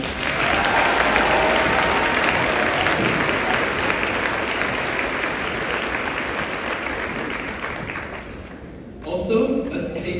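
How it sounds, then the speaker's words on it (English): Loud, sustained applause from a graduation audience fills the hall, dense clapping that fades slightly before a voice begins at the end. "let's give them a big round of applause"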